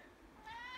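A cat gives a single short meow in the second half, faint and rising over a soft background hiss.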